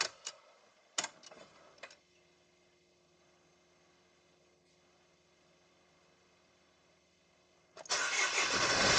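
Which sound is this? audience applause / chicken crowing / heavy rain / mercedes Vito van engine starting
mercedes Vito van engine starting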